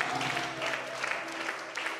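A church congregation applauds, a dense, steady wash of clapping that runs the whole time at an even, moderate level, with some crowd noise mixed in.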